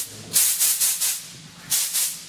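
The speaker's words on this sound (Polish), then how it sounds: "Palnik." A gas torch hissing in short bursts, several loud sharp puffs of gas in a rough rhythm with quieter gaps between, close by in a workshop.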